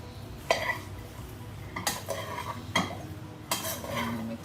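Utensil scraping and clinking against a pan as long beans roast, with a few distinct stirring strokes over a soft background hiss.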